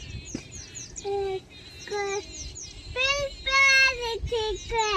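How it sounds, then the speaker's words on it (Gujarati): A koel's rising, repeated whistled calls ring out clearly, several in succession, with brief child-like voices and faint background noise between them. "એ તો કોયલ છે."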